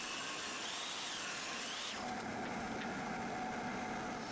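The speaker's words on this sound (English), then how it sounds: "I'm managing this by resawing the remaining 2x4 into 1x4s" A table saw roars continuously while resawing a wooden 2x4 into 1x4 boards, its pitch shifting as the blade bites into the wood.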